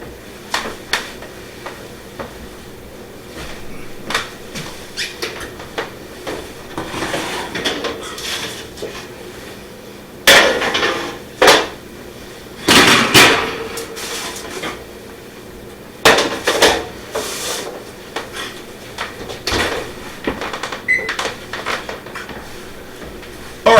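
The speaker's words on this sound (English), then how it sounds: "So let's go ahead and pull it out of the oven." A baking pan of Asiago cheese bread is pulled from the oven, with scattered clanks and knocks of metal pan and oven rack, some sharp and loud, others faint, and no talking.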